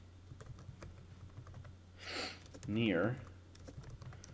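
Light tapping on a computer keyboard in a quiet room, a scatter of faint soft clicks as someone speaks briefly over the keystrokes.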